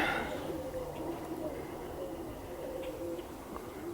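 Roller pigeons cooing softly near the loft, several low murmuring coos scattered over faint background hum, with a distant voice at the start.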